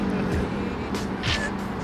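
Straight-piped car, a small Fiat, revving past on the street, a loud rasping engine roar that swells and fades within a couple of seconds, with a voice briefly heard.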